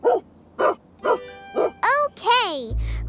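A cartoon dog barks and yips in a series of about seven sharp, close bow-wows with rising and falling whines toward the end.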